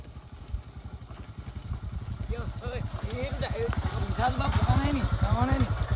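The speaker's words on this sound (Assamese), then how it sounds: "উৎপল পথাৰতে বাইক লৈ আহিছে হিমালয়ান বাইক" A Himalayan motorcycle crosses a field, its engine thumping in rapid regular pulses that grow louder as it approaches, beneath people talking.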